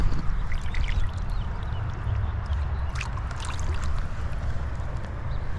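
A trout caught in winter on the Boise River is slipped back into the water, with steady close splashing and gurgling over a broad rushing river wash, plus a few brief sharper splashes.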